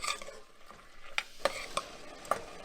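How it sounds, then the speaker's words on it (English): Dried cayenne peppers and vegetables for dirty rice sizzle in a pan while being stirred, a soft frying hiss broken by several distinct scrapes and clacks of the spoon. "Give everything a good stir to incorporate."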